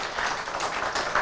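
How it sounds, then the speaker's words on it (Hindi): Audience applause at an Urdu mushaira, a short, dense burst of many hands clapping together, steady and fairly loud from a crowd. "मैं चाहता हूं कि जोरदार तालियों से उर्दू जबान का"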